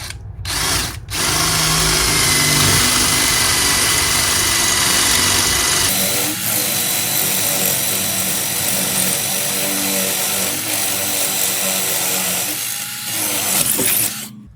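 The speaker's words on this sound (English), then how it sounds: "let's get started drilling our holes here in the concrete" A loud power drill grinds steadily into concrete, running almost without pause, with a brief stop near the start and a shift in pitch midway.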